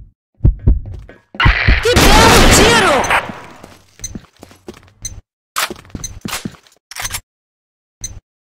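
Combat Arms video-game gunshots, close and punchy: a few isolated cracks, then a dense burst of rapid fire, followed by scattered single shots.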